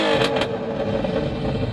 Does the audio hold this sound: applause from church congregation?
no